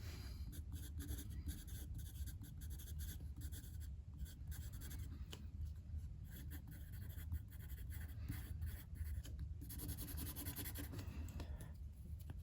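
Palomino Blackwing 602 pencil writing on Graphilo paper, soft scratchy graphite strokes in quick irregular bursts, close and continuous for about twelve seconds.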